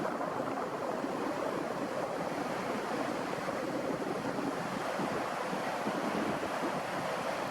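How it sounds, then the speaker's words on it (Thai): Floodwater of the Wang River flowing in its riverbed as the flood recedes, a steady, dense rushing wash with wind buffeting the microphone, continuous and fairly loud throughout with no voices. "นี่ครับนี่คือท้องน้ำของแม่น้ำวัง"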